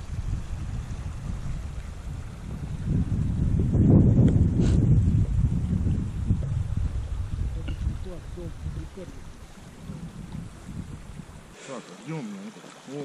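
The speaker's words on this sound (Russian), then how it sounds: "Ветер поднимается." Wind picking up over open river water late in the fishing season, loud rumbling gusts buffeting the microphone that swell and then ease, with a voice speaking over it.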